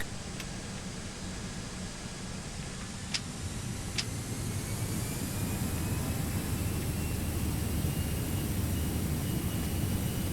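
An airliner's engines spool up to takeoff thrust in a flight simulator, producing a broad, steady roar that builds gradually, with a couple of faint clicks near the start.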